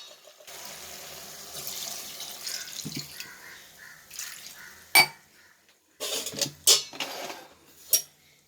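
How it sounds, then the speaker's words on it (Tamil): Water from a tap running into a metal pot for country chicken curry, a long steady stream followed by sharp clanks of the pot and a few splashing pours, close and clear. "தண்ணி கொஞ்சம் சேர்த்து வேக வச்சிடலாம்."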